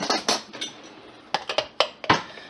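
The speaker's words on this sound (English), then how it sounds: "I'm going to get that stirred in" A spoon stirs sourdough starter into fine to medium cracked rye berries in a bowl for pumpernickel bread, giving a series of sharp clinks and scrapes against the bowl in an irregular rhythm, close and clear.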